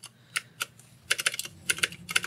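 Mechanical keyboard keys being pressed and checked for dust, giving crisp clicky clacks in short bursts, some single taps and some rapid clusters, close and fairly loud with no voice over them.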